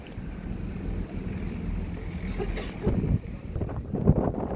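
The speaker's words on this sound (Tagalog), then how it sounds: "sobrang mahangin today" Strong winter wind buffets the microphone in a steady low roar on a train platform in Sweden, with heavier gusts swelling near the end.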